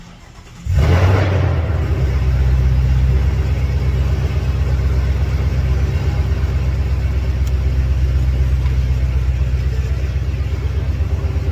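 A 2020 Ford Mustang with a manual gearbox and a gutted, wide-open three-inch exhaust fires up with a sharp crank. It then settles into a loud, deep, rumbling idle that stays steady and close for the rest of the clip.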